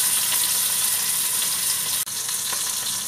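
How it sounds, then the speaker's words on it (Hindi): Fish shallow frying in oil in a pan, giving a steady, close hiss of sizzling that holds level throughout, broken by one brief dip partway through. "अब दूसरी साइड भी मैं इसे अच्छे से ऐसे ही फ्राई कर लूँगी।"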